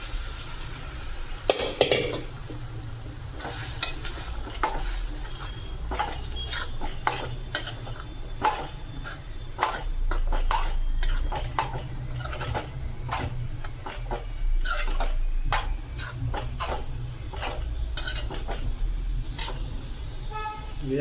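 Taro leaves being cooked in a pan for a village-style Marathi alu fatfata, with repeated metallic scrapes and clinks of a spoon stirring against the pan. The stirring comes in irregular bursts over a steady low background hum.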